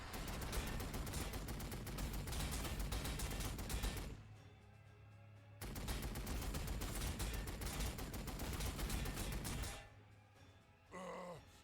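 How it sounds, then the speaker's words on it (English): Heavy gunfire from the Shadow Sword's Volcano Cannon in the Warhammer 40000 Sanctus Reach game, loud sustained bursts of blasting that break off twice, with a short groaning vocal near the end. "we're missing so many shots with the Shadow Sword's Volcano Cannon"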